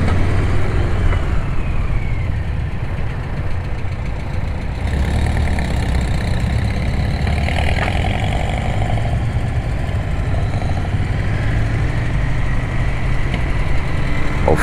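A Royal Enfield Interceptor 650 motorcycle engine rumbles steadily and loudly up close while out on the road, with a continuous low drone and broadband road and wind noise and no pauses or voices.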